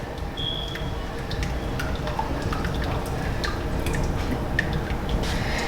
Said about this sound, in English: you're gonna pour the sauce